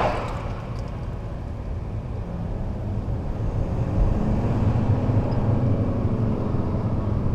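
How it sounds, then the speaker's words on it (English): An Alfa Romeo 159 with a 2.4 diesel engine passes by, a deep low rumble swelling from moderate to loud and holding near at the end, with no voices. "just hear the sound if this car passes by"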